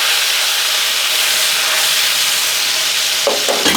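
Chopped strawberry mixed into browned cardamom in a hot pan, a loud steady hiss of frying that ends in a couple of brief clattering stirs, no one talking.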